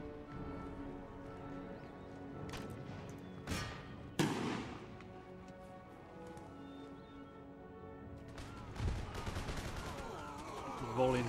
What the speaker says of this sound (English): Volley into the general's bodyguard.